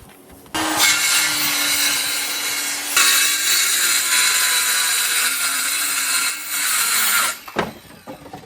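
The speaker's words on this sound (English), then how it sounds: "A skill saw, super loud." A circular saw screams loudly and steadily through the wood of old furniture for about seven seconds, its pitch shifting partway through, then winds down with a few clunks.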